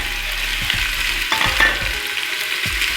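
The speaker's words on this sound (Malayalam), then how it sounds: "ഞാൻ അതിലേക്ക് അരിഞ്ഞ് വെച്ച സവോള ഇടുകയാണ്." Chopped onion frying in hot sunflower oil for beef vindaloo, a steady close sizzle broken by several scraping stirs of a utensil in the pan.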